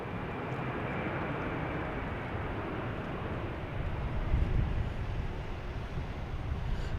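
A Sun Country airliner departing Boston Logan airport produces a steady, broad jet roar that holds constant and swells slightly midway, with no voices.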